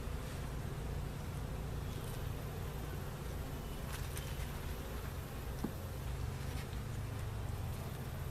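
Steady, dense buzzing of many bees around an open hive box during an inspection of a small swarm colony, a continuous hum with faint rustles and no talk.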